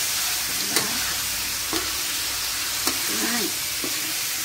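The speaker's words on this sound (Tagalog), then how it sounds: "Then, haluin ulit natin." Tinola with plenty of black pepper simmering in a cooking pot, a steady hiss underneath while a utensil scrapes and knocks against the pot about four times at a slow, even pace.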